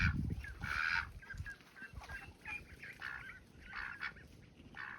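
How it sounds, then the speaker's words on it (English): Farm ducks on a flower farm call in a scattered run of nasal quacks and honks, fairly faint and slightly distant, with no talking. "We've got quite a few ducks."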